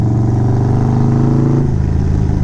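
A motorcycle engine hums and rises in pitch as the bike pulls onto the main straight of the V8 Supercar track in Townsville, then the tone drops as it shifts, loud and close with no talk.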